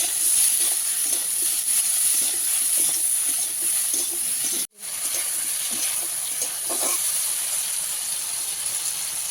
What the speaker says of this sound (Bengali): লবণ হলুদ দিয়ে ভালো করে ফুলকপিটা ভেজে নেব লাল লাল করে ভেজে নেব